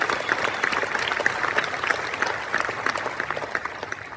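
Sustained applause from an audience at the Transplant Games donor tribute, a loud, dense clatter of many hands that continues steadily for about four seconds with no speech over it.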